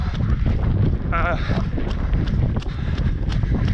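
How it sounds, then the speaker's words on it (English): Wind from the south gusts across a muddy dune trail as a continuous loud rush buffeting the microphone, with a short voice-like chirp partway through. "Hear a little bit of wind there coming from the south."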